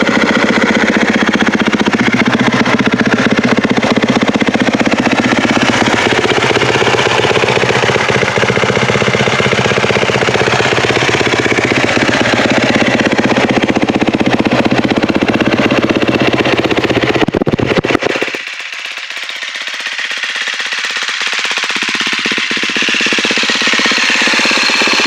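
A 2017 KTM 250 SX-F Factory Edition dirt bike engine with a full HGS exhaust system runs loudly and continuously with a rough, rattling idle, then drops abruptly to a lower, quieter rumble.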